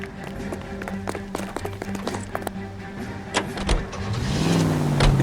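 A car in the L.A. Noire video game, set in Los Angeles, starts with doors and clunks, then its engine rises and drives off, growing louder toward the end, with brief voices in the background.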